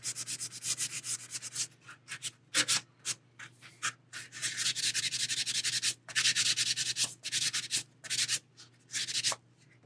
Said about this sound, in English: Right there, I'm just gonna sand that out.